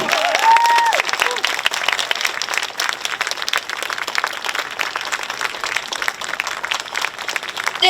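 Audience at a memorial anniversary event applauds steadily after a speech by a speaker from the Philippines, dense sustained clapping filling the space, with a brief voice near the start.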